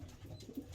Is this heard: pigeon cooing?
yes